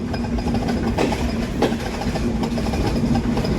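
Rupsha Express train pulling out of Darshana Halt railway station in Bangladesh, a loud steady rumble of wheels and carriages with a faint rhythmic clatter and a droning engine tone, close and continuous with no talking.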